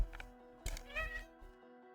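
A house cat meows a couple of times up close, short tonal calls standing out over a quiet room, with someone talking lightly nearby.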